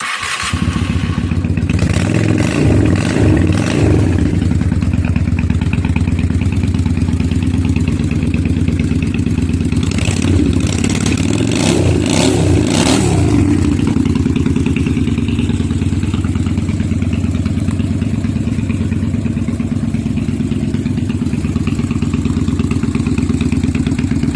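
A Honda Steed 400 motorcycle engine idles loud and close with a steady low rumble, punctuated by a few bursts of revving around the middle, no voices.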